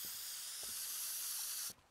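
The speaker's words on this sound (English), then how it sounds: "Spray can?" A continuous hissing spray from an aerosol spray can in a video game, steady and close for almost two seconds before cutting off abruptly.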